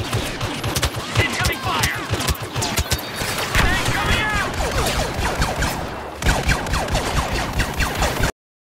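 Dense rapid gunfire from a Star Wars Battlefront match plays loudly and continuously. Blaster shots crackle in fast bursts for about eight seconds, with players talking excitedly over it.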